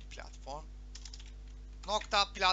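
Keys on a computer keyboard are typed while writing code during a Xamarin programming lesson, with quick clattering bursts close by, mixed with someone speaking over a low steady hum.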